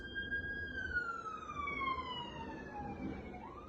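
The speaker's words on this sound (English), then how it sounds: "That was actually an ambulance that just drove by." An ambulance siren drives past, its wail sliding steadily downward in pitch as it goes by at moderate distance with no talk over it.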